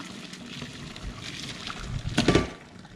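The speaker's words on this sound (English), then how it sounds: "pour it in my colander" Boiled Australian salmon and its hot cooking water tip into a colander in a kitchen sink, giving a brief rushing splash of pouring liquid over a low, steady room background.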